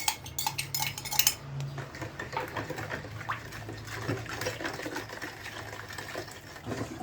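A spoon clinks and scrapes around a bowl while mixing flour, baking powder, oil and sugar for biscuits, a close, irregular rattle of stirring.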